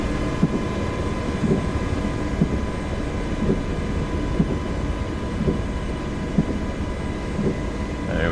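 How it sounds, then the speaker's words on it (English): Helicopter in flight during an Alaska shipwreck search and rescue: a steady, loud rotor drone with rhythmic blade thumps about once per second and engine whine, heard from inside the cabin without talk. "Man, I love this helicopter."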